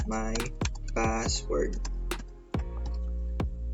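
Computer keyboard keys tapped in short, irregular bursts while a password is entered, close and fairly clear, with a person talking over much of the typing.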